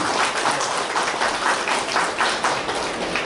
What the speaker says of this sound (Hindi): अपना वेलकम जोरदार तालियों से करें।